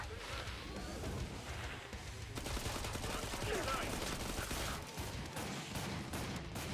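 Rapid bursts of gunfire with crackling, continuous shooting from a zombie shooter video game, fairly distant and dense, with no voices.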